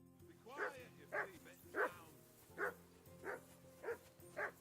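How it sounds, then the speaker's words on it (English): Dog barking in the video game Kingdom Come Deliverance 2, a steady run of seven sharp yips spaced about half a second apart over a low background hum, with speech present in the scene. "Call that dog, Henry."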